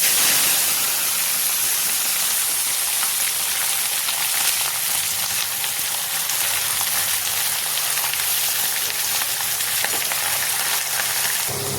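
Yogurt-marinated chicken fries over full heat in oil tempered with garam masala and bay leaves, giving a loud, dense, unbroken sizzle like heavy rain, steady throughout with no voices.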